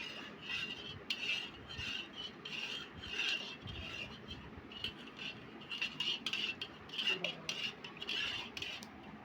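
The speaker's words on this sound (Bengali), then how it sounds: "এখানে দুধ ঢেলে দেওয়া হয়েছে ওইটা দুটা একসাথে মিক্স করে" A spoon scraping and clinking against a pot while milk is mixed into cocoa pudding mixture, repeated rhythmic metallic taps and rubbing strokes at moderate, close range.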